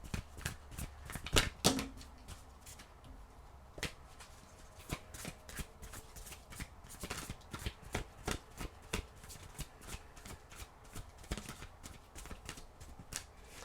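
A deck of oracle cards is shuffled by hand up close, giving a long run of crisp, riffling flicks and snaps in an uneven rhythm, quiet and with no talking.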